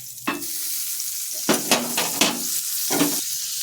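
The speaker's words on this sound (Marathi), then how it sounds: "आता आपण पाव गरम करून घेणार आहोत." Pav bread warming in butter on a hot pan with pav bhaji masala, giving a steady close sizzle broken by several short bursts of scraping and stirring, with no talking.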